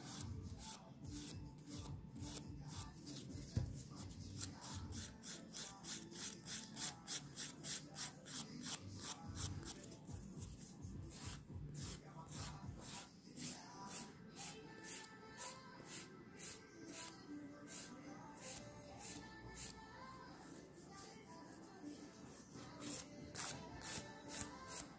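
A nail file rasps across fingernails in steady, quick back-and-forth strokes, close and fairly quiet, continuing with only slight pauses and no talking.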